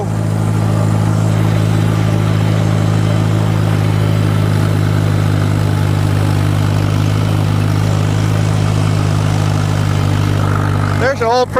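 A tractor engine runs steadily at a loud, close idle before mowing, a constant low droning rumble throughout with a brief rising whine at the very end.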